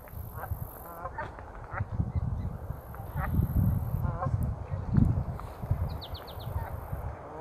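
Geese honk repeatedly out on Morgan Lake in Oregon, a scattered flock calling at moderate distance over steady low background rumble, with a few sharper calls standing out.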